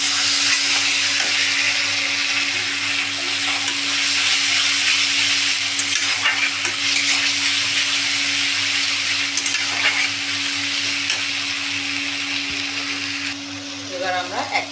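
Ginger-garlic paste sizzling loudly in a pan of cooked-down tomatoes, a dense, steady hiss of frying that carries on close by with a few faint clinks near the end.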